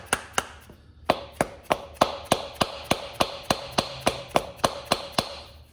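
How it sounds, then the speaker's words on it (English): Steady series of sharp, light dead blow hammer taps on a camshaft gear, about three per second, close and clear with a faint ringing tone between strikes. "you're probably going to need your dead blow hammer, and you're just going to tap it on very lightly"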